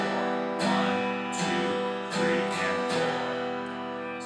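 Guitar strumming a beginner rhythm pattern with an eighth-note strum on the and of 3, several crisp strums in steady pulse with chords ringing between them, close and clear with no voice.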